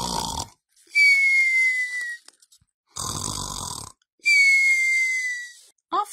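A voice imitates snoring: two long, drawn-out breathy snores with a whistling tone, separated by pauses and close to the listener.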